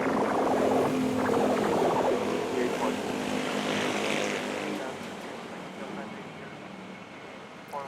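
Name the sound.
airliner flight to Osaka taking off, Manila airport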